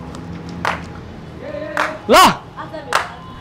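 People clap for the winners of a game show, with short bursts of applause between people talking.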